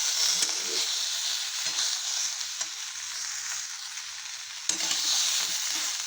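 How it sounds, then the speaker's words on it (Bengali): Potato, eggplant and beans that have already been fried sizzle steadily in a pan as they are stirred with turmeric, with a few scraping knocks of the spoon. "হলুদ দিয়ে ভালো করে নেড়ে নিলাম"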